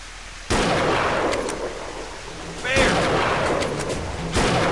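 Gunshots in the hunting game Deer Drive: three loud, booming shots at intervals, each with a rolling echoing tail, over a constant background hiss and some talk.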